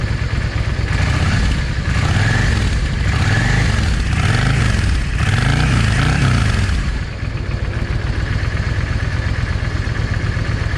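Yamaha 650 V Star motorcycle engine running after a cold start, a loud steady low rumble with rhythmic pulsing revs in the first half before settling to an even idle, close by with no talking.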